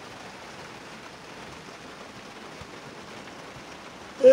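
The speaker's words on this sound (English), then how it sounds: "Gotta love the rain, guys." Rain falls on a dreary day, a soft, even patter and hiss held at a low level throughout before a sudden louder burst at the very end.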